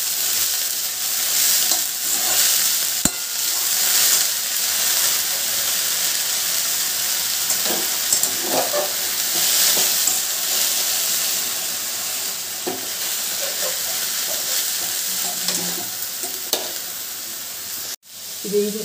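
Chutney ingredients for a tamarind-leaf roti pachadi being stirred in a pan over a low flame: a continuous close sizzle with repeated scraping and clinking strokes, ending in a sharp click, with no talking.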